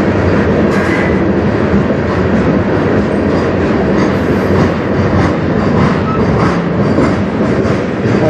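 CN M301 manifest freight train, led by locomotives CN 2292, CN 5784 and CN 2544 on the Strathroy Subdivision, passes close by with a loud, unbroken roar and clattering wheels.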